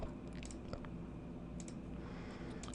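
Calculator buttons being pressed: a few faint, sparse clicks tap over a steady low hum, quiet and close.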